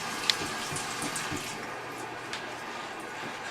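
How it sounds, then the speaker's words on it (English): Water poured through a stand-to-pee device, a steady close trickle and gush of liquid with a faint click near the start, no speech. "So we'll kind of run some water through that."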